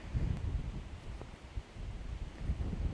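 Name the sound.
wind blowing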